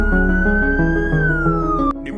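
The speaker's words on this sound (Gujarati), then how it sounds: "સડનલી ત્યાં પોલીસનું સાયરન વાગવા" A police siren wails loud and close on Diwali night in New Jersey amid fireworks, a single steady tone slowly rising then falling before cutting off abruptly near the end, with a low engine-like rumble underneath.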